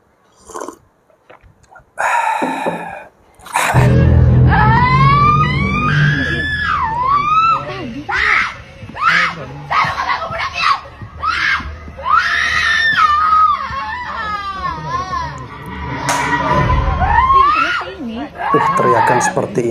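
In a cinema during a horror film scene, an audience member screams loudly in long, wavering shrieks, with other people talking and shouting around her throughout the scene.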